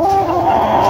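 Gamefowl of the sale stock, chickens bred for fighting, cluck and call loudly at close range in a short burst over steady background noise.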